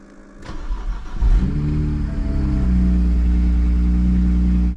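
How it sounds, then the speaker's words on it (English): BMW 1 Series petrol engine cranking briefly, catching and settling into a steady, close idle with a deep low hum. "now let's start this car, and hopefully we should be alright"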